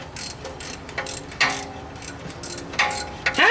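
Torque wrench ratcheting as bolts are tightened on an offroad wrecker, a quick series of sharp metallic clicks in short bursts, moderately close, with no talk over it.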